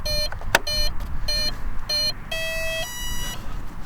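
A series of short electronic beeps from an RC plane's speed controller arming, in a rhythmic sequence, ending with a longer tone and a final chirp, loud and close.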